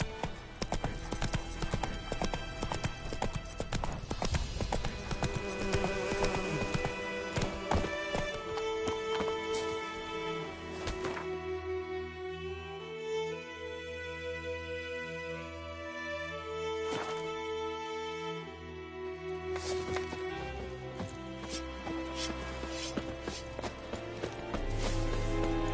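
A horse gallops in The Witcher 3: Wild Hunt, with rhythmic clip-clop hoofbeats continuing throughout. They sit alongside game music and ambient sound, and the hooves ease into a slower gait partway through.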